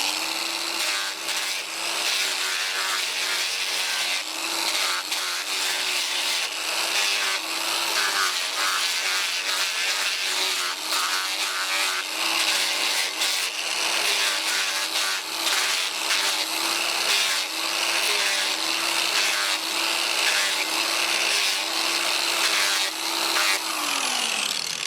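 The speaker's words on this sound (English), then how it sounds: "I've now got a sanding disc on a flexible backing pad and a coilless angle grinder. I'm now going to take off these pointed edges." Cordless angle grinder fitted with a sanding disc on a flexible backing pad, smoothing pointed edges of a wooden sand pit; a loud, steady abrasive whine with rubbing grit that holds for the whole stretch before winding down at the end.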